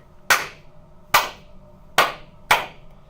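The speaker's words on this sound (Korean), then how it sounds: "우리 한번 박수를 한번 쳐볼까요?" Four sharp, loud single hand claps, unevenly spaced and close by, each a crisp snap with a short decay, made during a classroom demonstration about spur and helical gears.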